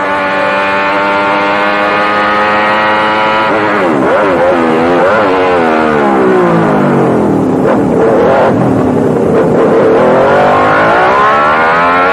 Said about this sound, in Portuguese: olha só que onboard sensacional do Berger